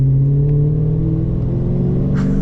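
A Ford FG XR8 Falcon with a manual gearbox revs while driving, its V8 giving a steady loud low rumble with strong engine harmonics throughout, close and continuous with no talk.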